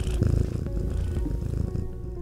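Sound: cat purring in Dreams video game

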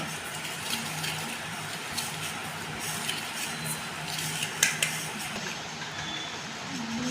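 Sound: blending sugar and white oil together for oats cake batter

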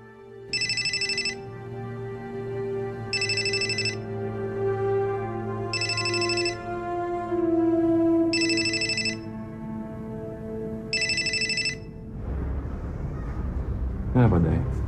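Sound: telephone ringing on a call that goes unanswered

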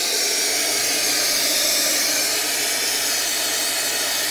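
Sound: hot water pouring from espresso machine into portafilter

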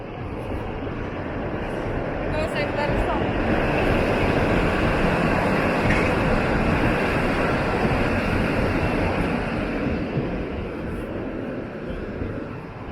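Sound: modern tram passing

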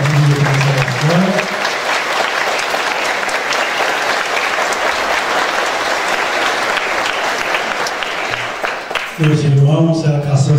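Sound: applause for the family

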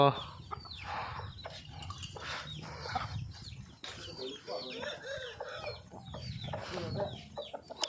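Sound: fighting rooster clucking on a farm

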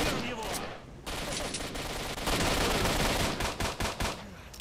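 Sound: pistol gunfire in video game S.T.A.L.K.E.R.: Shadow of Chornobyl

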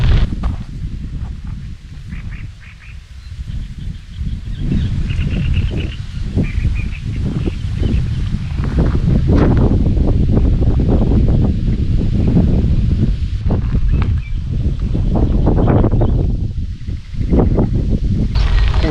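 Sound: wind blowing while cycling

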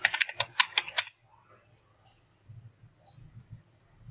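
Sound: typing on a computer keyboard

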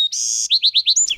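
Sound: birds singing in park orchard trees

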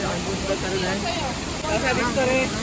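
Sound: waterfall flowing (Mangeli waterfall)

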